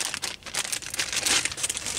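A roll of 1-inch black Gorilla Tape in a plastic bag crinkles and rustles continuously as it is handled up close, with no talking.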